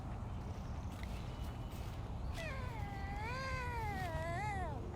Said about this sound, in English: He is a Savannah cat.